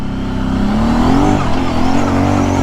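Kawasaki Brute Force 750 ATV climbing a hill in two-wheel drive, its engine revving loud and steady close by with pitch rising under load for the whole stretch.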